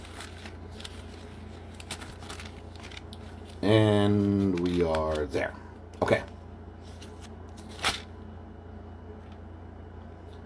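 Thin Bible paper pages are turned and shuffled with soft crackling rustles spread across the clip, and someone speaks briefly in the middle.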